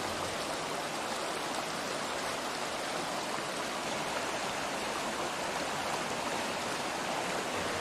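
Türisalu waterfall in Estonia pours over a cascade of soft Cambrian sandstone steps, giving a steady, dense rushing roar of falling water that never lets up, with no voices.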